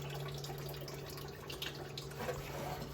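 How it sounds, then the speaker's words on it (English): Coolant draining steadily from a vehicle, a continuous trickling, splashing flow close by with a steady low hum underneath and no talk. "we got this thing draining coolant"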